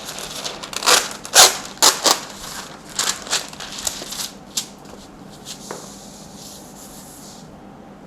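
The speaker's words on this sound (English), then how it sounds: "I am going to place this sheet over the parchment" Sheet of parchment paper handled for cake decorating, a run of crisp rustling crinkles and rubs in loud bursts that fade into quieter scattered rustles toward the end.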